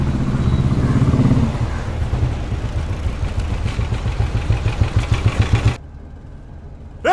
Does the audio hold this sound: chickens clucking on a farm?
no